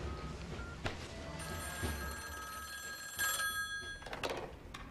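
A telephone bell rings in a film scene, its repeated metallic trill sounding close and clear over a faint room background, with no talk during the ringing.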